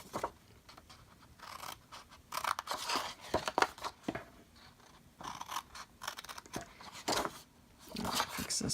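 Scissors snip and cut through paper and card for a Christmas gift bag, a close run of crisp cutting and crinkling strokes in irregular bursts with brief pauses and no talking.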